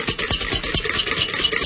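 Butter whisked by hand in a mixing bowl, fast rhythmic scraping strokes of the wire whisk against the bowl, loud and close, with no voice over it.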